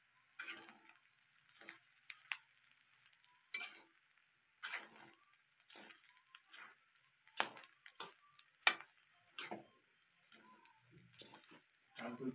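Egg rice being stirred in a kadhai, with a spoon scraping and knocking against the metal in irregular strokes over a faint sizzle, close by and quiet with pauses between the stirs.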